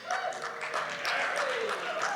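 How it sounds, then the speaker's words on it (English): Audience applause at a university athletic hall of fame induction ceremony, a short burst of steady clapping from a crowd indoors, fairly faint and continuous. "let's give him a good round of applause"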